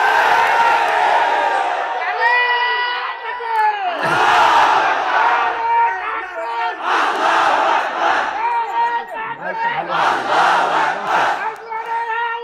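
A large crowd at a Bengali waz mahfil loudly chanting takbir in call-and-response, several surging shouted waves of many voices close and echoing, one after another.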